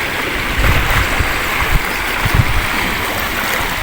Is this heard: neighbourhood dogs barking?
no